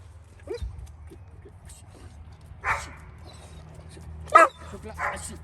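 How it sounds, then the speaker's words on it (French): A male dog gives a few sharp barks and high whimpers at close range in a quiet setting, separated by pauses, while a person talks nearby. "Il sait qu'il y a un chien qu'il ne connaît pas qui est dans le décor."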